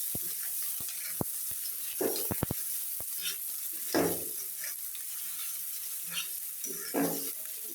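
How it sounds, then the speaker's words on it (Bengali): Chopped onion frying in a pan for a lentil dal with drumsticks, a steady hiss of sizzling broken by sharp clinks and scrapes of a spoon stirring against the pan. "পেঁয়াজ কুচি দিয়ে এটা ভালোভাবে ভেজে নেব।"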